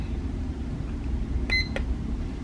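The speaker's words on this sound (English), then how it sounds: "as y'all can hear, it has a loud beeping on." A wooden cube digital alarm clock gives a short pair of high electronic beeps, clear but brief, over a quiet room hum with no talking.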